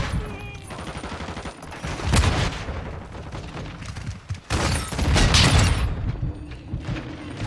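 Gunfire in Modern Warfare 2 plays as a loud, busy fusillade of rapid shots, building into two heavier bursts with booming impacts and mechanical clatter over a steady in-game background.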